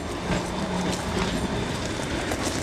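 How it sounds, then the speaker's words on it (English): A tram passing by in South Norwood, London: a loud, steady rumble with rail clatter close to the listener, filling the whole moment with no speech over it. "That's the tram."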